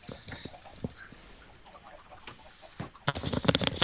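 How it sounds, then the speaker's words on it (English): Minecraft chicken clucking in short bursts, moderately loud, becoming denser and louder toward the end, with game sounds around it. "we have a pet chicken."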